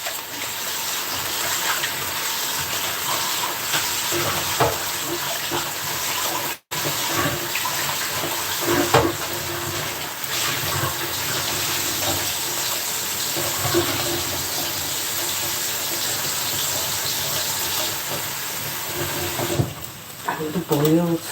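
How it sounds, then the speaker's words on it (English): A can is rinsed under a running kitchen tap, giving a steady, fairly close stream of splashing water that continues for about twenty seconds with small shifts as the can moves. "Now, let me wash this can."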